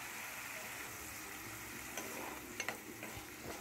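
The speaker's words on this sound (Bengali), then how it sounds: "দিয়ে ভালোভাবে মিক্স করে নিচ্ছি" Cashew paste is stirred into a spice masala frying in oil, giving a faint, steady sizzle with a few soft scraping clicks from the stirring.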